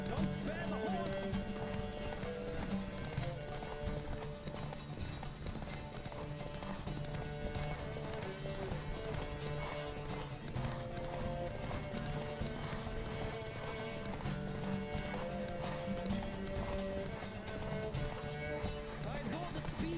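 A horse racing at full gallop in The Witcher 3, with a relentless drumming of hooves and brief whinnies over dense game music, sustained and even for the whole stretch.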